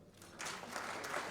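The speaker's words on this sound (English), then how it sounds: "Let's clap for them" Applause from a seated audience at a talk on business and money management, a soft, fairly distant patter of clapping that starts abruptly and holds steady to the end, with no talk over it.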